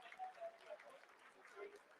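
Applause in mission control during the Chandrayaan-3 lunar landing descent, faint scattered clapping heard distantly under someone speaking.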